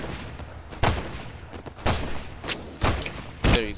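Shotgun barb trap in Decaying Winter firing, a sequence of four loud sharp gunshot blasts at irregular intervals, each with a brief echoing tail over background noise.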